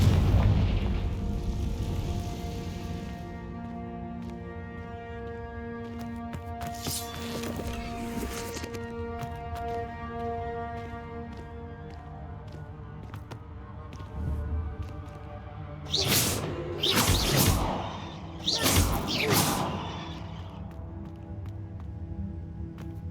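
Confringo fire-blast spells explode in Hogwarts Legacy, several deep booming bursts over a steady rumbling game backdrop, loudest at the start and in a cluster of sharp blasts near the end.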